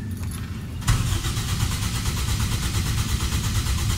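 A car engine cranks steadily without catching, its starter motor droning continuously and loudly, while a homemade RF remote alarm blocks it from starting.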